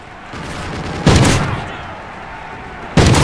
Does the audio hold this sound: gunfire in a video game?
yes